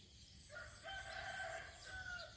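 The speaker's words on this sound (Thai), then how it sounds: "เสียงไก่ขันเช้าๆอย่างเงี้ย" A rooster crows once in the morning in a rural village, a faint, distant call over steady background hiss.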